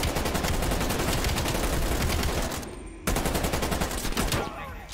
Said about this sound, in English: That's a freaking shotgun